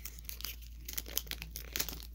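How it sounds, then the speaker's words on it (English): Quick crinkly tearing and rustling of a trading card booster pack being torn open by hand, close up, in short bursts over a low steady hum. "That's why you don't use scissors when you're opening stuff."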